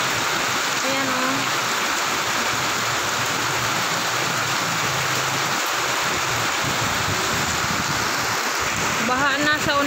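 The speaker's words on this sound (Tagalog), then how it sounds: "Lakas ng tubig sa kanal oh." Heavy floodwater rushes through a canal in a downpour, a dense steady roar of flowing water with rain hiss running throughout, with a voice speaking over it near the end.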